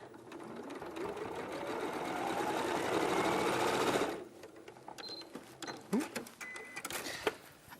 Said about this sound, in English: sew to the next intersection